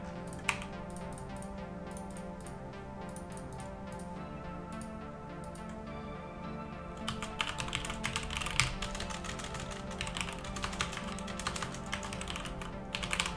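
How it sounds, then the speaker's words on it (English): Fast, steady clicking of keys on a computer keyboard, close and crisp, with the typing growing busier and denser in the second half; no voices. "Keyboard ASMR."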